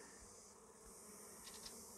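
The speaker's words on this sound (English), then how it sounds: "And right nearby, we've got some bees. A nice little hive in there." Bees buzz softly around a hive in a tree outdoors, a faint steady drone with a few brief, closer passes.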